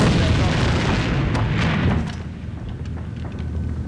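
A grenade goes off in a tactical first-person shooter, a loud booming blast with a rumbling tail that fades after about two seconds into quieter battle noise.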